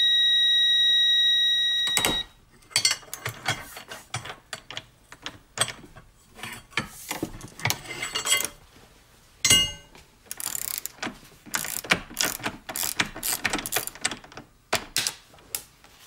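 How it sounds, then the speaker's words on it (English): A Capri reversible ratcheting long wrench with a pipe slipped over it for extra leverage strains on a fastener. A steady tone cuts off, then irregular close metallic clicks, creaks and clanks follow. "we're gonna go ahead and slip a pipe on here and see if we're able to round off this fastener"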